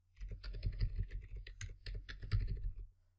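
A computer keyboard clatters during a digital art tutorial, with rapid, uneven key presses at close range and no voices.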